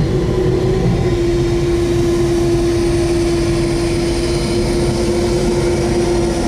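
Propeller aircraft engines idle on the apron at Toronto Pearson airport near a small 17-passenger propeller plane, a loud, steady droning hum with a constant tone that runs unbroken from start to finish, with no voices.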